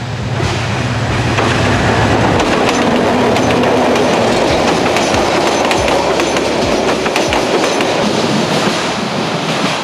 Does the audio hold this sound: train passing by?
yes